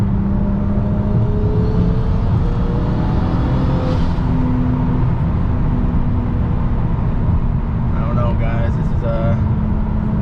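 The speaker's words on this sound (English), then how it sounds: "Fourth gear at 70 miles per hour." A big-turbo BMW N54 accelerating in fourth gear gives a loud, continuous drone of engine and road noise from inside the car, with a rising whirring tone throughout.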